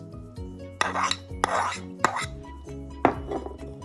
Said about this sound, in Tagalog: Now we're going to mix the ingredients.